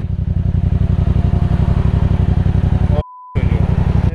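Motorcycle engine idling close by with a steady, rapid pulsing throb, briefly cutting out for a moment before resuming.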